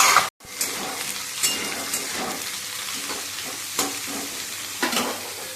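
Onions and capsicum sizzle and fry in a pan, a steady crackling hiss with occasional louder stirring scrapes after a brief drop at the start.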